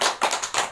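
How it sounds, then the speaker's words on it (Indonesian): An audience claps hands at a stunting health talk, a short burst of several quick, close claps in a brief 0.8-second spurt without talk. "Tepuk tangan lah Bu."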